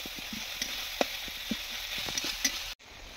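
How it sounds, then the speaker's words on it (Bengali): Onion, ginger and garlic frying in a pan, a steady sizzle with soft scraping stirs and light clicks, close and fairly quiet, cutting off abruptly near the end. "পেঁয়াজ আর আদা রসুন দিয়ে নিয়েছে, নিয়ে আর এখানে কষছে, ভালো করে কষে নেবে"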